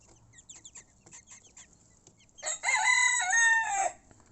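Small frizzle-feathered bantam rooster crowing once after a couple of seconds of scattered soft hen clucks, the crow loud and near, sustained and wavering before it breaks off.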